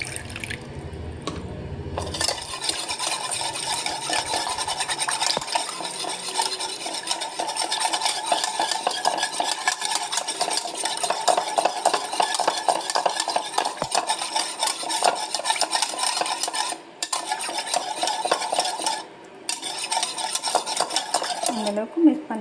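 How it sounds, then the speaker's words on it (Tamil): A utensil stirs cocoa powder cake batter in a bowl, scraping steadily and continuously for about twenty seconds with brief pauses, close and fairly loud, with no voices. "அந்தளவுக்கு மிக்ஸ் பண்ணணும்."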